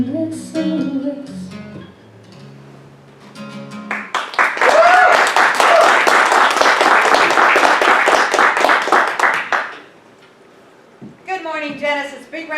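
A congregation at a spiritual living center service bursts into applause, a dense round of clapping lasting about six seconds, with a voice speaking before and after.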